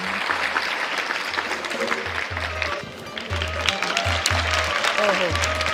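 Steady clapping from a group at a school event fills the clip, with a low rhythmic thumping running underneath throughout.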